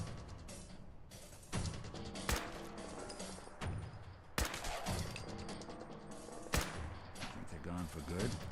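Gunfire from fighting in the video game Fallout 4 crackles in scattered shots and bursts, several sharp reports standing out over a busy game soundscape while someone talks throughout.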